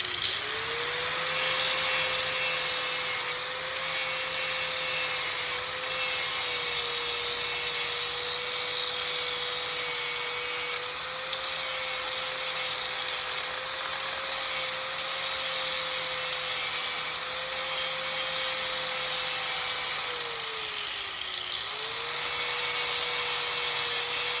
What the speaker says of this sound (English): using the grinder to grind off the rivet